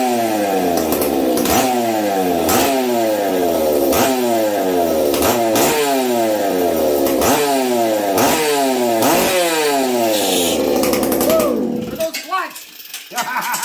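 A ported Iron Horse 266 chainsaw revving hard in a shop, about ten rapid rising rev cycles in a steady rhythm, loud and close, then dropping back toward idle at the end.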